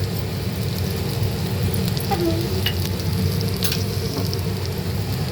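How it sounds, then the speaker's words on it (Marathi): Roasted green chillies, garlic and coarse salt in a hot pan being crushed and worked with a stone pestle for traditional thecha, giving a steady dense crackling sizzle with occasional faint knocks throughout. "आणि वरवंट्याने थोडं शेकून घ्यायचं"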